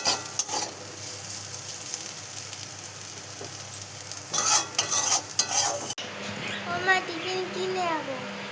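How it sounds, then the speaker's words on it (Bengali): Aloo bhaja, potatoes frying in a pan at home, with a soft steady sizzle and occasional stirring clatter, followed by a child and an adult talking over the faint crackle. "এইদিকে আলু ভাজা করছি।"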